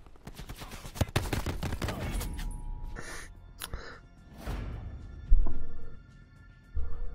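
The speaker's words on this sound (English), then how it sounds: "And there are a lot of shooting going on." Gunfire in the Call of Duty: Black Ops 4 Blackout battle royale, with bursts of rapid shots early on, then scattered single cracks and distant exchanges, plus a loud impact near the end.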